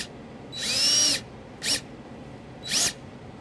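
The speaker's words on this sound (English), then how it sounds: "we're going to use the provided sheet metal screw through the eyelet into the hole to secure our ground." Power drill driving a sheet metal screw into the body of a Dodge Journey, three whirring bursts, the first long and the next two short, heard close and alone against a quiet background.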